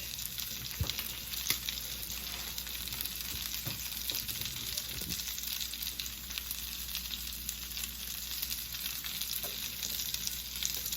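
Coconut shrimp frying in a pan, a steady close hiss of bubbling oil running throughout with a few faint clinks, no voices.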